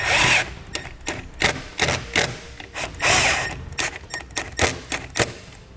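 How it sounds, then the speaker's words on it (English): Self-tapping screws driven with a quarter-inch nut driver while mounting a trailer brake controller breaker on a 2017 Ford Escape, a series of sharp ratcheting, clicking bursts in an irregular rhythm, close and fairly loud, with no talk. "we'll take our breaker and two of the self-tapping screws, like a quarter inch nut driver"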